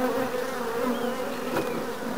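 Honeybees buzzing steadily and close around an opened nuc hive during installation, a continuous droning hum with no talking.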